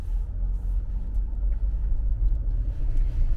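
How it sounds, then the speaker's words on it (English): A 2014 Nissan Rogue SL AWD pulling away smoothly from a stop, heard as a steady low engine rumble with mild road noise and no sharp revving. "we're ready to take off. The throttle engagement is very smooth, not abrupt, and very controllable"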